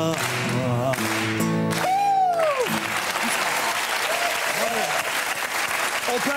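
Studio audience applause on a French TV talk show breaks out after a song ends, a dense, steady wash of clapping that runs throughout, with music fading at the start and a presenter speaking over it.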